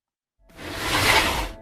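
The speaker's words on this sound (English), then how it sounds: "That's the sound of a cooler coming down off the shelf." A cooler slides down off a shelf in one rising swoosh that swells over about a second and ends abruptly, close and alone.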